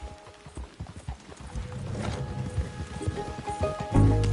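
Horse hooves clip-clopping in the Red Dead Redemption 2 video game, a steady trotting patter growing slightly louder, ending with a brief whinny and a low rumble, with no speech.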